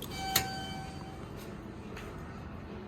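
A 1985 Dover hydraulic elevator's bell gives a single clear ding that rings briefly and fades, followed by a quiet indoor hum with a couple of faint clicks.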